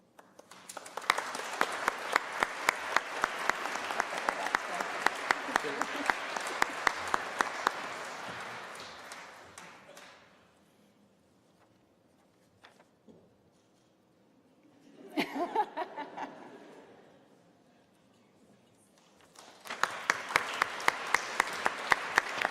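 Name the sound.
audience applause at awards ceremony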